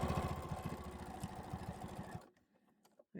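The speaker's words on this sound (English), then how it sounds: "Hope the sewing machine's not too loud." A sewing machine stitches a tote bag with a rapid, steady mechanical whir close by. It runs loud for about two seconds, then stops, leaving near silence and a small click at the end.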